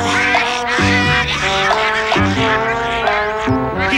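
A cartoon duck quacking sound effect: a rapid, loud, continuous string of nasal quacks with stepped pitch changes, close and without speech.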